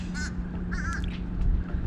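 Crows caw a few times in quick bursts over a steady outdoor drone and motor hum near a float-equipped Turbo Timber Evolution model plane, the calls fairly clear but moderate in level.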